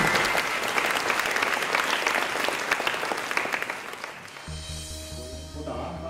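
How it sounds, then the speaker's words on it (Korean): Audience applause opening an academic conference in Moscow, a full room clapping densely for about four seconds before fading out, followed by music starting. "큰 박수와 함께 시작하겠습니다"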